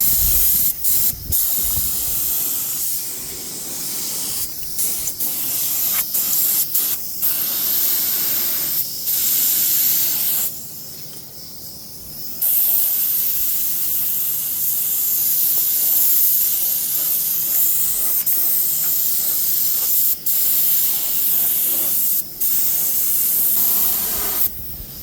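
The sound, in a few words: spray gun spraying epoxy primer on VW Bus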